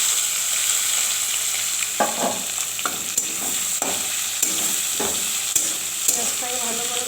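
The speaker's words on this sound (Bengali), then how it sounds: "পেঁয়াজটাকে ভালো করে ভেজে নেব।" Chopped onion sizzles in hot oil with whole garam masala and bay leaves in a wok, a steady close frying hiss broken by repeated scraping stirs of a spatula.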